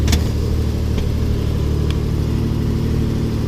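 A 4-wheel drive truck engine idles steadily just after starting, a loud, continuous low rumble with a brief clatter at the start and no talking.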